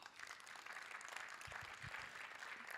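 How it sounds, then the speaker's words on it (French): Applause at a climate adaptation awards ceremony: a steady wash of many hands clapping in a hall, faint and continuous with no breaks. "Et on vous applaudit encore bien fort."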